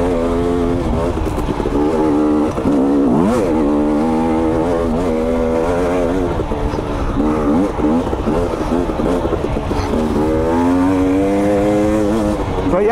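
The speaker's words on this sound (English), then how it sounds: "Man, I love this bike. Running so good." A KTM 250XC dirt bike engine runs loud and close, rising and falling in pitch as the rider revs and eases off over greasy trail ground, with a brief moment of speech under it.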